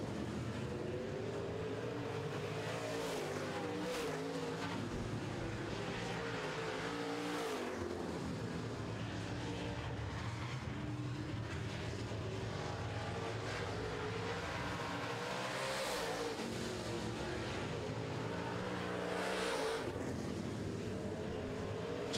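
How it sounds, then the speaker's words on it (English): Late model stock cars racing around a short oval track during a heat, engines roaring continuously and loudly as the pack passes, with rising and falling revs and brief tire squeal. "Next time by, the leader will take the white flag, indicating there is one left to go for Mike Balkan in the 10 car."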